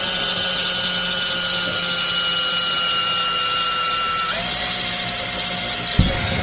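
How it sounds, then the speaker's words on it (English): A power drill bores a slightly larger screw hole in the plastic of a Keter Store It Out Midi 880-litre outdoor storage box, its steady whine running the whole time and rising in pitch partway through, close up, with no talking. "I'll drill it with a slightly bigger hole"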